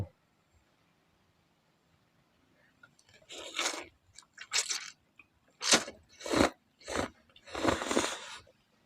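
Someone eats thick Thai nam tok noodle soup with grilled chilies, producing a run of close, loud crunching and slurping bursts after a few quiet seconds.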